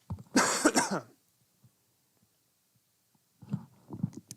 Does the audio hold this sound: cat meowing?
no